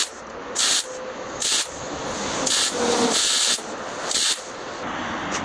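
Tack welding on a Ford F100 frame, several short hissing, crackling bursts of roughly half a second to a second each, spaced irregularly over a steady shop hiss, close and loud.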